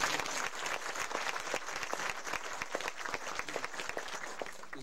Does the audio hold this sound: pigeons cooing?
no